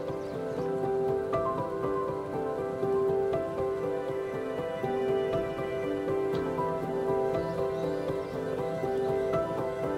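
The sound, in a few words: rain falling in a forest, binaural recording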